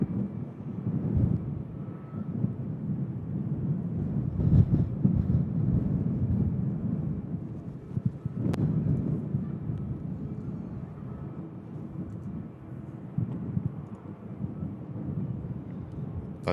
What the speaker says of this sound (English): That Dreamliner holding from Montego Bay as an EasyJet from Belfast arrives in